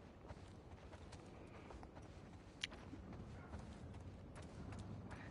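Faint horse hooves clip-clop in an irregular walking rhythm in The Last of Us Part 2, quiet and somewhat distant amid ambient game noise.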